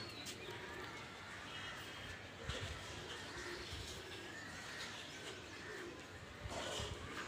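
Madrasi pigeons of Arshad and Dasu breed coo softly at a distance against a noisy, washy background, the calls faint and recurring.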